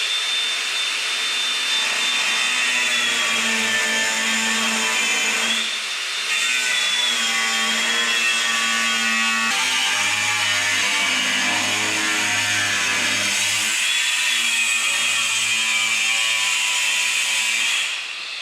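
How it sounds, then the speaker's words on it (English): Reciprocating saw cutting through the sheet-metal body of a wrecked Chevrolet Silverado pickup, a loud, steady high-pitched buzzing drone that runs almost unbroken, with brief dips near the middle and at the end. "A little bit there to get with the Sawzall."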